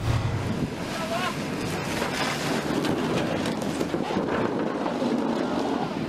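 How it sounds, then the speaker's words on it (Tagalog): Water cannon from a China Coast Guard vessel spraying a steady, rushing torrent at sea near Scarborough Shoal, mixed with wind buffeting the microphone and waves, while people talk in the background. "Mula po yan sa buga ng tubig ng water cannon itong China Coast Guard vessel."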